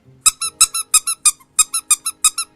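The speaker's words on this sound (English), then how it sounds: "Oh, you want me to squeak the rubber ducky?" A rubber ducky squeak toy squeezed repeatedly, giving about ten sharp, loud, close squeaks in a steady rhythm, with each squeeze followed quickly by a second softer squeak.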